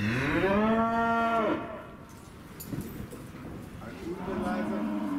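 A cow gives a long, loud, close moo, then a second lower moo begins near the end, with a person speaking German and shuffling noise in between.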